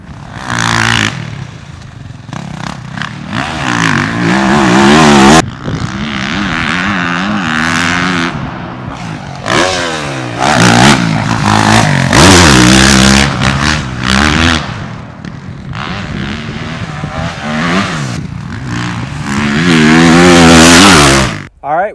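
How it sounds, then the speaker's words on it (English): A 2023 Yamaha YZ450F motocross bike ridden on a track, its loud, close engine revving hard, dropping off and winding up again through gear changes. There are a few brief lulls between the pulls. "we just wrapped up a day of riding on the 2023 Yamaha YZ450F"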